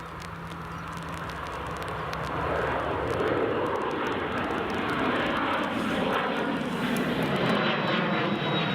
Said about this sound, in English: Here comes the Bizjet.